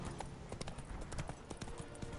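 Horse hooves clip-clop in a quick galloping rhythm in the video game The Witcher 3: Wild Hunt, fairly faint, with a voice briefly urging the horse on.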